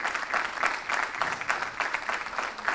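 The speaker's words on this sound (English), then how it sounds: "Another round of applause as he gets to the stage." An audience at a book launch claps for a speaker coming to the stage, giving sustained, dense applause from a roomful of people that holds steady throughout, with no speech over it.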